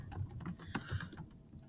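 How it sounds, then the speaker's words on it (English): Quick, soft clicking keystrokes on a computer keyboard as a chat message is typed, an irregular patter of taps close by and fairly faint, trailing off near the end with no talking. "So once I type what I want to send"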